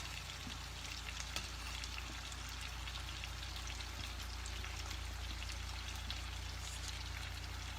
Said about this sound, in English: Yeah, it's really boiling now.